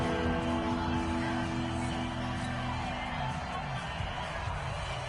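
Stadium crowd in a Madden football video game roaring steadily ahead of a big third down, a dense, continuous wash of cheering with scattered whoops throughout.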